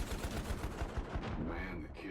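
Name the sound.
machine gun firing incendiary bullets in a video game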